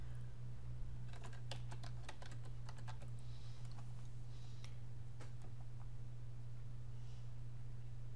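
A name being typed on a computer keyboard into a file-naming field: a quick run of close, crisp key clicks, then scattered taps, over a steady low electrical hum, with no talking.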